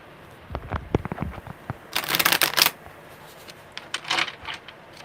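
Tarot cards being shuffled by hand in bursts: light riffling taps early on, then two dense, louder shuffles near the middle and end, close and alone.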